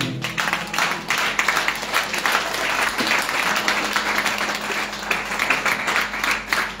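Audience applause at a church gathering, a dense continuous wash of clapping that holds steady throughout, loud and close.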